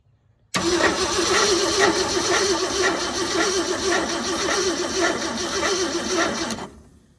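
A 1971 Ford engine, unstarted for 27 years, cranks continuously for about six seconds, a loud, steady mechanical churning that never catches, then stops.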